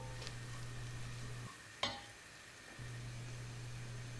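Chopped garlic and carrots brown in a pan for a Turkish vegetable soup, a faint, steady sizzle under a low electrical hum, broken by a single sharp utensil clink partway through.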